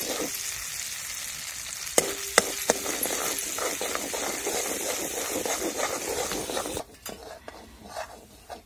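Masala frying in a pan for a spicy Marathi patwadi rassa, an even sizzle with metal stirring clinks, a couple of sharp taps, and the frying dropping away sharply near the end.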